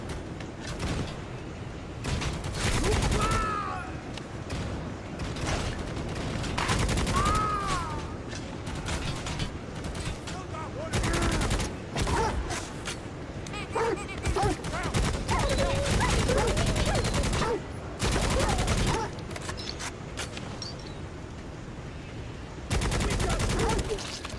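Dual bolt pistols firing in the video game Necromunda: Hired Gun, loud rapid bursts of gunfire with mechanical clanks, repeating in volleys over a dense game soundscape with a voice talking at times.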